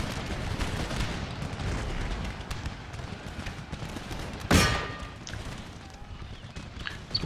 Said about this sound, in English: Keep the artillery firing on his artillery.